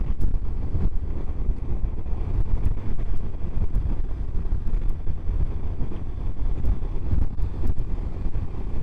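Strong wind blows across the clifftops at Bonifacio, Corsica, a loud, continuous low roar and buffeting against the microphone that never lets up, with no voices.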